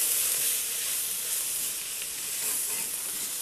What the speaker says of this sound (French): Donc je mets la farine au-dessus, je mélange